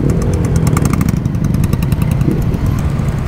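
Motorcycles riding in a city parade through the streets of Bucharest, a loud, close engine rumble with throbbing exhaust pulses and revving from many bikes together, continuous throughout.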